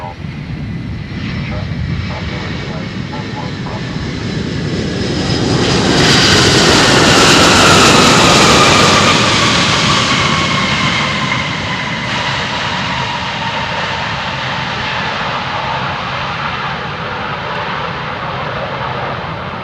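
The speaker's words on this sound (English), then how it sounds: "All sorts of crazy noises that you don't normally hear when these aircraft come to a stop." A UPS Boeing 757 freighter sits near the runway entry point at Louisville airport, its jet engines roaring loud and close, swelling to a peak midway before settling into a steady whine, while radio chatter and a voice talk over it.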